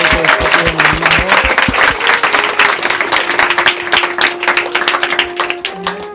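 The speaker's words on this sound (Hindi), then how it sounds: "यीशु मसीह ताली बजाइए, प्रभु का स्वागत कीजिए।" A church congregation claps loudly and fast to welcome the Lord, a dense near rhythm of many hands with faint music tones beneath and no speech.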